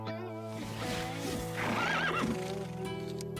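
Several horses whinny and neigh in clear, close calls over steady hoofbeat clip-clops.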